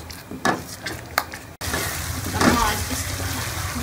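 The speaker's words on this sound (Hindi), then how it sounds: "दही को डालने के बाद हम मुसलसल इसको भूनेंगे ताकि इसके अंदर ये दही फटे नहीं।" Masala being fried and stirred in a pan with curd added for a mung dal vadiyan curry, a steady close sizzle with a few scraping stirs, quieter at first then louder and continuous after a sudden jump.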